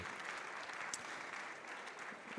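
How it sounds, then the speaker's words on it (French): Conference audience at a health technology event applauding the speakers, a brief, even burst of dense clapping from a seated crowd, moderately distant and steady. "je pense qu'on peut applaudir donc l'ensemble des intervenants ainsi que Frédéric."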